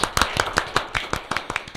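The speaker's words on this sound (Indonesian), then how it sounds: "Tepuk tangan dulu dong." A small group at a corporate bank branch meeting claps hands together in brief, sharp, uneven claps, a short scattered burst of individual claps close by in a quiet room.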